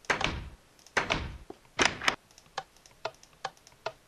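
Minecraft door mechanism: three heavy clunks about a second apart, then a run of lighter rhythmic ticks and clicks, close and clear with no talking.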